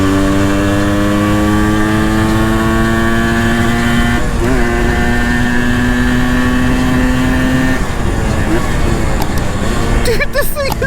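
A 1998 Yamaha RT100 motorcycle engine drones steadily at high revs while riding fast, the pitch holding then shifting as it changes speed, loud and close throughout with a voice speaking over it.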